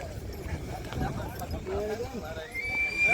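A horse at a Vekriya horse race in Kutch, Gujarat, whinnying near the camera, with hooves clip-clopping, while people talk loudly throughout.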